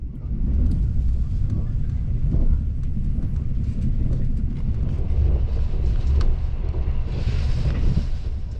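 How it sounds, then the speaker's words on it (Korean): Steady low rumble inside a slow Mugunghwa passenger train travelling from Seoul Station, a continuous rolling drone with faint rattles throughout and a brief brighter hiss near the end. "느릿느릿 기차에서 창밖 풍경을 감상하다 보니 어느새 목적지에 도착했습니다."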